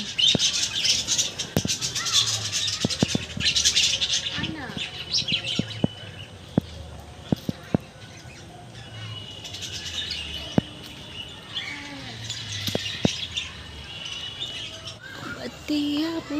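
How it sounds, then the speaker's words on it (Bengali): Many birds chirp and tweet in a park playground with swings, bright calls scattered near and far, some bursts clustered, over a low background with voices and other activity intermittently present. "দেখ পাখিগুলো দেখে যা"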